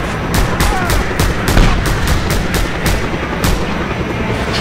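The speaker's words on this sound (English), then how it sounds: "that's a rocket" A rocket explosion in the video game Just Cause 2 sits amid rapid, loud gunfire, a string of sharp cracks running across the few seconds with a heavier blast swelling near the middle, all close and dense.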